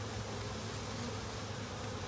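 Honey bees buzz around a resettled hive in a dense, continuous drone, steady and close with no pauses.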